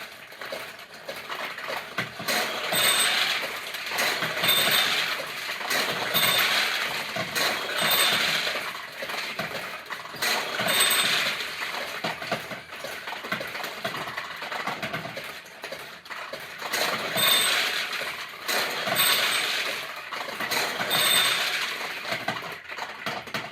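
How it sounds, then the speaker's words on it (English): Steel balls rattle and clatter through a vintage 1973 Nishijin Model B pachinko machine, with bright metallic clinks and pings tumbling in repeated bursts over a continuous mechanical whir. "it just spit out 14 balls as the winning prize"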